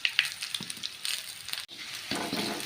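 Garlic and black pepper crackle and sizzle in hot oil as a tempering for a manathakkali soup, close and uneven, in short bursts with a sharp cut-off midway before the sizzle swells again.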